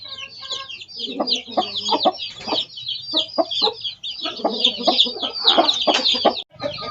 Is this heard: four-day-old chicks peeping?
yes